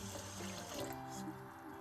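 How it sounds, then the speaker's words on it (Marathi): A short, soft pour of water trickles onto sugar in a container, quiet and close. "पाणी आपल्या अंदाजानेच टाकायचं, साखर बुडन इतकं पाणी टाकायचं"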